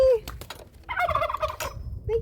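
Farm turkeys gather by a door and give a loud, close gobble in a short rolling burst, with brief bird calls before and after and no talk over them.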